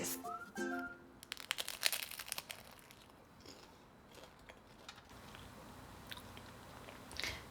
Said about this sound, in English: This is classic maximum crunch, that deep golden color.